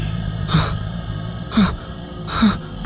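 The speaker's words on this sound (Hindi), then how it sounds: "तभी उसे भयानक सांसों की आवाज आने लगी" Three slow, heavy breaths, each a harsh, drawn-out rasp with a low groaning edge, close and menacing against a quiet droning background.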